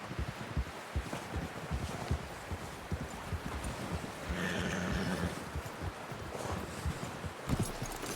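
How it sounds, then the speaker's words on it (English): A horse whinnies in Red Dead Redemption 2 amid clip-clopping hooves and rustling, with a clear neigh standing out mid-clip over a steady busy game soundscape. "Someone help John down off this horse."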